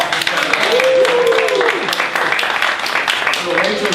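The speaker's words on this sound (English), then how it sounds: "You guys give Rachel a round of applause." Audience applause at a shortform improv comedy show at a Houston theater, steady dense clapping from a crowd with whoops and voices over it, a speaker's voice rising through the middle.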